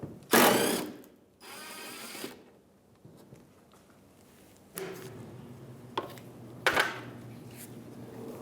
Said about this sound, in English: So we're going to use a 10mm socket and take that bolt out.